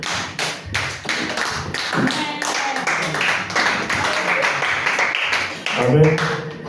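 Congregation at a church service clapping in a dense, uneven patter of hands that carries on for several seconds, with a few voices mixed into the applause.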